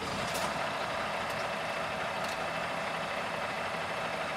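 An International S13 diesel truck engine in an HX620 runs at a steady, dense idle, loud and close, with a few brief high beeps over the constant rumble.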